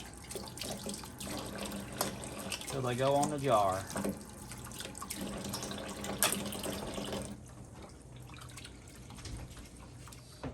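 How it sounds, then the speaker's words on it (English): A faucet runs and splashes steadily into a sink while rinsing tomatoes for canning, a person talking nearby, then the flow stops. "after I rinse them off good, I'll put them right in that bowl of hot water"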